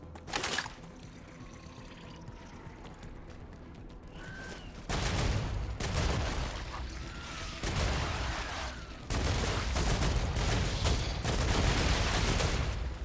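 Gunfire from the factory-building game Star Rupture crackles in several dense bursts over a steady hissing background, each volley louder and broader than the last, with no talking.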